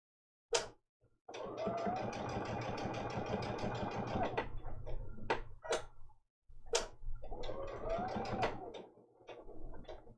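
A ScannCut machine stitches in two bursts of fast, buzzing mechanical whirring, each a few seconds long, separated by sharp clicks and ticks and a brief quiet gap.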